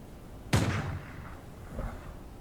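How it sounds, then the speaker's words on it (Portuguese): A single 12-gauge shotgun shot cracks loudly outdoors, followed by a fading rumble and a fainter thump a moment later. "Não, esse é um tiro de 12 agora."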